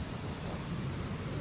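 Heavy rain pours steadily on a night in Saudi Arabia, with a dense, even roar and a low thunder rumble underneath.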